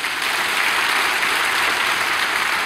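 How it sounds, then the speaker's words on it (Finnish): Audience at a Finnish stand-up comedy club bursting into sustained applause, a dense, even wash of clapping with no voices over it. "Taputtakaa ne."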